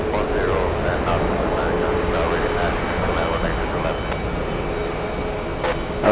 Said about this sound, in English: Let's go for the Korean A380. It's on the move.